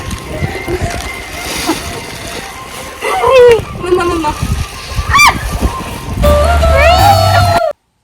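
Splashing and jumping about in rainwater across a paddy field during rain, with wet sloshing bursts coming and going up close while voices talk over much of it.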